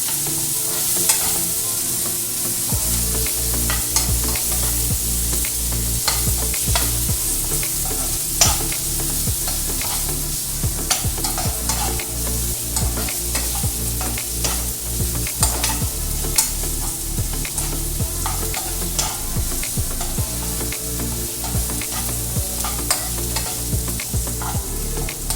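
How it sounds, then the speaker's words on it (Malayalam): Tomato strips, cleaned of their insides and cut lengthwise, sizzle steadily in a hot pan as a filling for paneer kulcha. A spoon scrapes and stirs them with frequent close clacks throughout, and no one speaks. "തക്കാളി ഇപ്പോൾ ഏകദേശം നന്നായിട്ട് വഴന്ന് വന്നിട്ടുണ്ട്."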